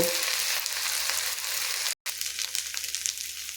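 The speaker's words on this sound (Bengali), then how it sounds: "আদা রসুনের বাটা তারপর এটাকেও ভালো করে আমি ভেজে নেব পেঁয়াজের সাথে" Ginger-garlic paste fries with onion and whole garlic cloves in a pan, giving a continuous bright sizzle with one very brief break.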